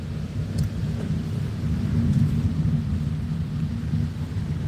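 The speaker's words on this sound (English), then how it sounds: "Damn, it's raining, guys." Rain with thunder in Da Nang, Vietnam, a heavy low rumbling roll that swells and fades over steady rain noise, loud and continuous with no voices.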